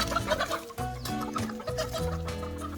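Chickens clucking at a farm stop near a jungle waterfall in Farallones de Cali, South America, a busy overlapping run of close clucks and squawks with no talking.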